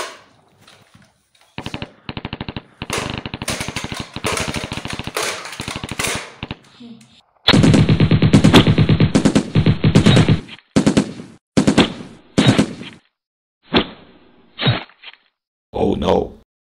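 Rapid bursts of gunfire fire in loud volleys, stopping and starting, then trail off into a few scattered single shots near the end.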